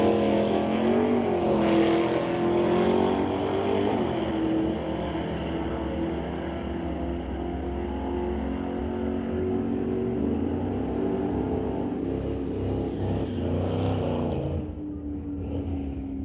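NHRA Summit ET Series drag race with two cars, including a 1966 Ford, roaring down the strip; loud sustained engine drone with rising pitch sweeps as they accelerate, fading slightly near the end.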